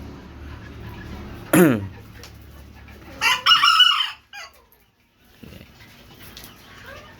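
A broodcock rooster crows once loudly and close, followed by a short squawk, with quieter clucking and farmyard sounds around it.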